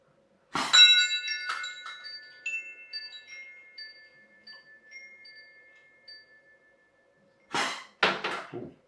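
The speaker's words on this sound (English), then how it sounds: "I'll see if we can hit the wind chime." Lightweight 3D printed Nerf-compatible blow pipe darts strike a hanging wind chime, setting off a few bright metallic clinks that ring out and slowly decay, then a couple of softer rattling taps near the end, with no talking.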